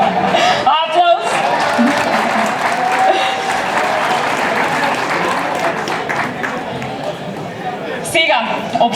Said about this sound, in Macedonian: Аплауз.